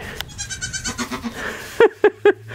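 A baby goat bleats loudly and close by, three short sharp cries in quick succession after a stretch of softer, rapid rhythmic background sounds.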